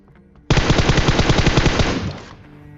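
Automatic gunfire rings out in a shooter video game. A loud, rapid burst of shots lasts nearly two seconds, close and dominant, then fades with a short tail.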